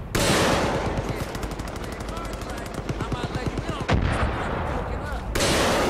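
Rapid automatic gunfire from the shooter video game Far Cry 5, loud and sustained bursts of machine-gun fire with a brief pause near the end before shooting resumes.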